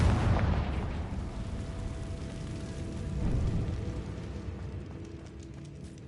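Confringo spell blast in Hogwarts Legacy, a broad booming explosion that opens loud and rumbles on, with the blast ringing out across the whole stretch.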